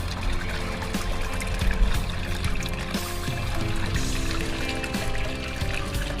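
Water spilling from a goldfish pond waterfall over a hidden filter, a steady close trickle and splash running continuously without a break.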